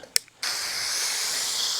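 A Vevor garden hose nozzle set to fan mode sprays water in a steady, close hiss that starts abruptly after a couple of brief clicks and carries on evenly to the end.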